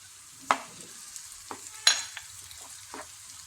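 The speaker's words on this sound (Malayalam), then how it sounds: "കുറച്ച് സമയം ഇളക്കി കൊടുക്കാം." Chopped tomato and softened onion frying in a pan, a faint low sizzle broken by a few sharp scrapes and taps of a spoon stirring every second or so.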